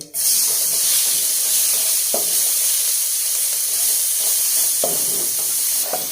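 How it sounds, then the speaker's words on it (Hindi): Chopped onions hit hot oil already frying with cumin seeds, bursting into a loud, steady sizzle and spray that holds throughout, with a few brief scraping stirs and no talking. "इसके बाद हम इसमें प्याज डाल देंगे"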